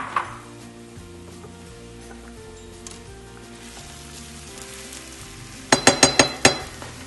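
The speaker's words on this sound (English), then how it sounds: "we're going to take our minced onion and we're going to start sauteing that." Minced onion sautés in a preheated pan for lentil burgers, giving a steady, moderate sizzle throughout, with a quick burst of several sharp utensil clinks against the pan near the end.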